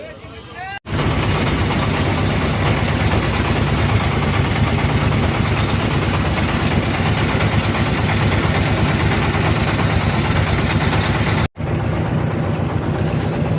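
A loud, steady boat engine drone runs continuously at close range, briefly cutting off near the start and again near the end, on a boat trip to Bholaganj Sada Pathor, Sylhet.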